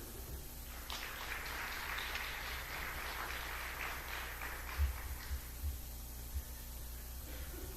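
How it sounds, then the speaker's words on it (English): Membership meeting audience applauds the negotiating team with a fairly quiet, steady wash of clapping that builds around the first second, holds for several seconds, then thins and fades, with a few low thumps near the end. "I want to thank the negotiating team and give them the round of applause"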